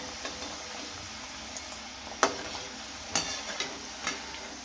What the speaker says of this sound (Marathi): आणि छान मस्त तळून द्यायचं आहे.